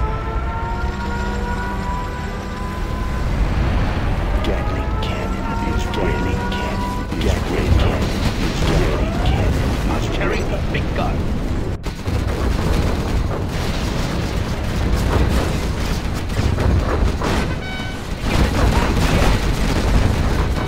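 A nuclear missile strike in Command & Conquer Generals Zero Hour: dense, continuous rumbling blasts and mechanical clatter sustained for the whole stretch, loud, with scattered sharp cracks and a brief dip midway.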